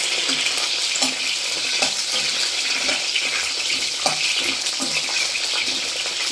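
Green chillies coated in gram flour fry in a pan, giving a dense, steady, loud hiss of sizzling oil broken by faint stirring taps, heard up close with no talking.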